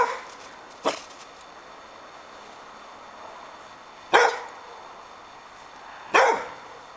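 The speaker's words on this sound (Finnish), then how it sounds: "Haukuttele vaan." A dog barks three separate times, sharp single barks spaced a few seconds apart, fairly close and loud over a quiet background, during obedience training beside a set of overalls.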